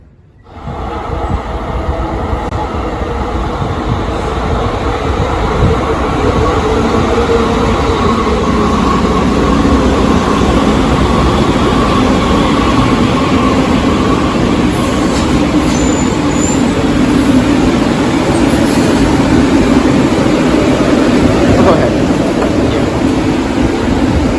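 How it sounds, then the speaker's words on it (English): A San Francisco Muni subway train runs steadily for the whole stretch, a loud, continuous rumble of wheels on track with some high squeals and rattles and no speech. "it doesn't feel right calling the Muni the subway"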